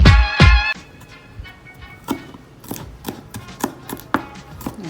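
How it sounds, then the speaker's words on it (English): A knife chops wonton filling on a cutting board, opening with a couple of loud blows and then a run of lighter, irregular taps. "And chop again. Just to make it as small as possible"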